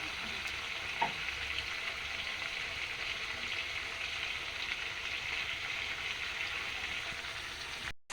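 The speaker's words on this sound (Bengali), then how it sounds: "মাংসটা আর একবার নেড়ে নিচ্ছে।" Meat sizzles steadily in hot oil as it is stirred in a pan while being braised with spices, a continuous close frying hiss with a faint clink near the start.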